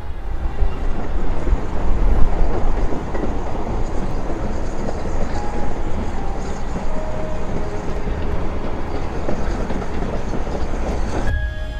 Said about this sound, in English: But we'll get to see the train in a second. Comes the train.